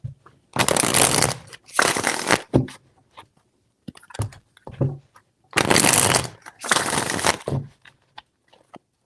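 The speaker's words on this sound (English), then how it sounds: "4 shuffles." Tarot cards shuffled in four quick riffling bursts, loud and close, the first pair at the start and the second pair a few seconds later, with soft tapping and handling noises between them.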